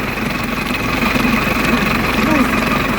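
A YUMZ-6 tractor engine idles during a rear axle test with oil, a loud, steady low rumble with continuous vibration throughout the short stretch.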